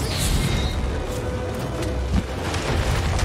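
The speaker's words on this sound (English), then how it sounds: "These explosions are so big." Deep booming blasts from a Seething Bazelgeuse in Monster Hunter Rise Sunbreak gameplay, heavy rumbling explosions with crackling bursts layered over sustained game noise, one sharp hit standing out near the end.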